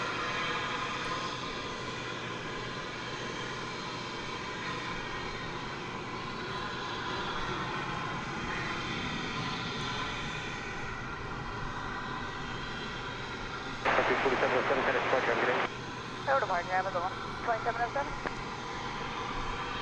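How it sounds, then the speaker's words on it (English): A Delta Airbus A320 jet passes at DFW Airport, its steady engine roar filling the scene, while brief radio-like chatter and a voice cut in near the end. "There's Delta Flight 984 going through your screen. It's off to Los Angeles. That's an Airbus A320."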